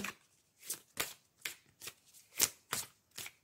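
Archangel oracle cards being shuffled by hand, a run of crisp riffling bursts at a steady, roughly even rhythm, close and fairly quiet with no talking.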